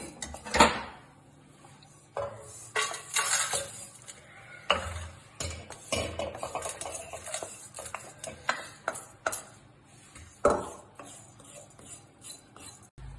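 Cooked food containing dry coconut scooped from a pan into a basin to cool, a spoon clinking and scraping against metal in irregular taps and scrapes, some sharper knocks standing out.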